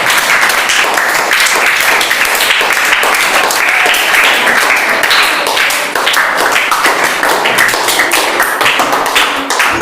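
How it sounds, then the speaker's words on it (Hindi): Children in a coaching class general-knowledge quiz applaud loudly and steadily, with a close, continuous patter of many hands clapping for nearly ten seconds. "ठोको ताली जी"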